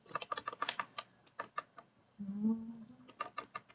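Someone types on a computer keyboard, and quick clusters of light clicking keystrokes come close and quiet. A brief low hum sounds midway, then the tapping resumes, with no speech.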